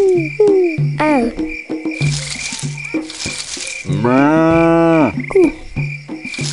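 A long, loud cow moo rises and holds for about a second, over a looping background of blips, chirps and buzzing noise bursts from the 1998 Windows game Robbie Konijn - Dreumes: Het Magische Verhalenboek.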